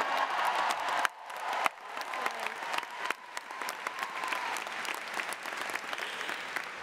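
Steady audience applause from a large crowd at an education union gathering, dense clapping that carries on for several seconds and drops briefly once before continuing.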